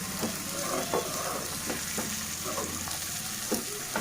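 Mutton and drumstick pieces with salt are stirred in a hot pan, giving a steady close sizzle broken by periodic scrapes and stirring knocks of the spoon.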